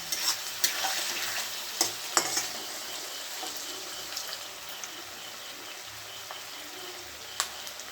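Curry with chili sizzles in a pan while being stirred, a steady frying hiss broken by occasional scraping clicks of the spoon, close by.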